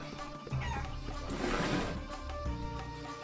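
Chicken clucking in the Guacamelee video game, a short burst of fowl calls over steady game music and background ambience, without speech.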